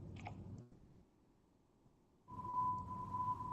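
White noise passed through a filter at 1,000 hertz rings as a steady, narrow, hissing tone. It starts abruptly after a quiet gap and holds loud and continuous to the end, following a brief earlier burst of broader sound.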